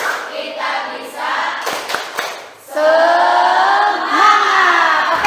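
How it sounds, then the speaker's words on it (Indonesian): A classroom group of teachers-in-training bursts into loud, sustained applause with cheering, rising abruptly after an earlier quieter stretch of clapping and chatter, with voices shouting together over the clapping. "tepuk tangan buat kita semua"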